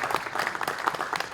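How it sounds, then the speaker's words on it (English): Audience applause at a sports philanthropy panel, a short, dense patter of clapping hands at steady volume with faint talk mixed in. "I think a round of applause is in order."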